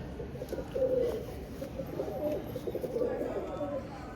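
Teddy pigeons kept by a breeder coo softly in low repeated phrases, with background voices and movement around them.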